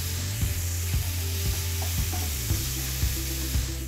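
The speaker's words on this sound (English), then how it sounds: "just scraping the paste off the bottom of the pan" A tomato spice paste for a butternut squash curry sizzles in a pan while a spoon stirs and scrapes the bottom in regular strokes about every half second over a constant hiss, close up.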